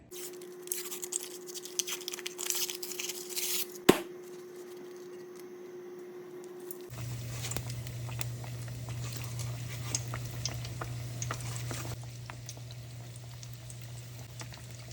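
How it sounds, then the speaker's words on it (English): Grands biscuits drop into 350-degree frying oil, and after a faint clatter and a sharp knock a steady, soft sizzle and bubbling take over and continue to the end. "those are our Grand's biscuits into our 350 degree oil"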